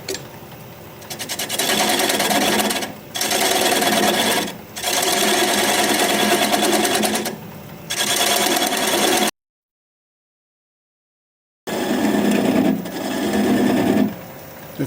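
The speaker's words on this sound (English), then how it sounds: "I'm going to take my 3/8 inch standard grind bowl gouge and begin to removing the tenon." A wood lathe spins a turned piece at about 600 rpm while a 3/8 inch standard grind bowl gouge cuts away the tenon, a loud steady buzzing rasp in long bursts with brief pauses and a silent gap.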